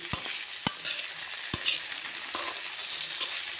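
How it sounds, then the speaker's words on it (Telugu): Okra frying in oil with ginger paste added, hissing in a steady close sizzle. A few sharp clinks and scrapes of a stirring spoon against the pan break through it. "ఆయిల్లో బాగా మగ్గిపోయింది కదా కొద్దిగా అల్లం పేస్ట్ వేస్తున్నాను"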